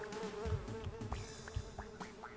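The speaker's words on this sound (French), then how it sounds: "Il y a tellement de mouches." Flies buzz nearby in a persistent, wavering drone that rises and falls in pitch as they circle close, with a few soft thumps underneath and no one talking.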